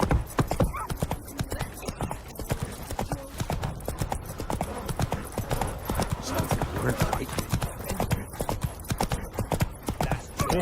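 Hoofbeats of Roach, a horse in The Witcher 3: Wild Hunt, clatter in a steady fast clip-clop rhythm throughout, loud and close, with an occasional whinny and a voice speaking briefly over the galloping.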